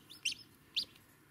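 Two short, high chirps from a newly hatched brown chick in an incubator, spaced about half a second apart, fairly close over a quiet background.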